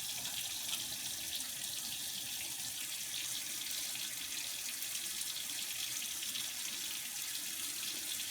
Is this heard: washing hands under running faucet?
yes